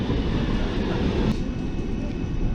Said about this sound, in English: Here's our tram.